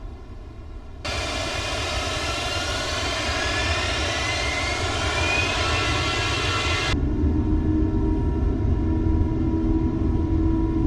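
Airliner jet engines spooling up for a go-around in Microsoft Flight Simulator, a steady loud roar and broadband rumble that swells in and holds for several seconds before settling into a lower, continuous drone.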